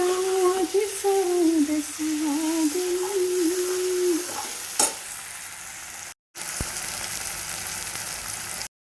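Tomato tadka frying in a pan at home while being stirred, a steady close sizzle with scraping stirs that thins out partway through, followed by a brief cut and softer crackling.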